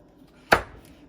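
A single sharp knife chop through a potato onto a cutting board, close and distinct against a quiet kitchen.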